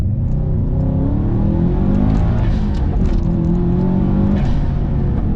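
A 2002 Subaru Prodrive STI, a WRC-inspired performance car, accelerates hard with a loud, steady engine roar that stays strong and continuous throughout, with no talking over it.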